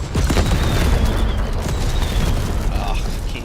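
Booming explosions in a video game roll loudly and continuously, dense low rumbling blasts layered one over another for a few seconds with no clear gaps.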